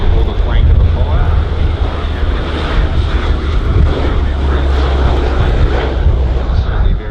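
An Avro RJ85 water bomber passes overhead during an airshow firefighting display, its loud, steady jet roar filling the scene without a break while a commentator talks over it.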